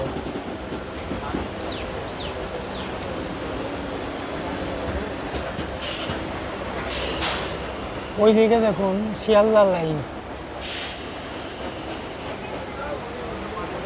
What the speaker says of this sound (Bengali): ট্রেনটা স্লো হয়ে গেল